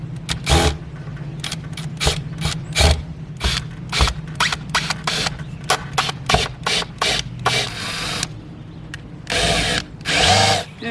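A power drill drives screws to reattach shutters to the side of a house, with short, loud whirring bursts repeated irregularly and separated by brief pauses, close to the microphone.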